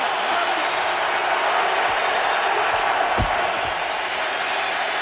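Stadium crowd at an NFL football game, Seahawks at Colts, a steady wide roar of cheering and noise with a few thumps underneath.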